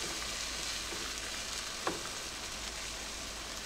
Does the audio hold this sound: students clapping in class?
no